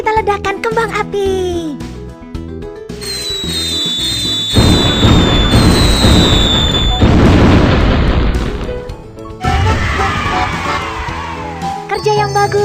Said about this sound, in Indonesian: Ayo kita ledakan kembang api